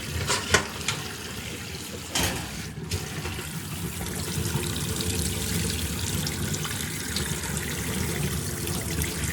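Running water pours steadily over a front-load washing machine part being rinsed, a continuous broadband splashing with a couple of brief knocks near the start, heard alone without talk.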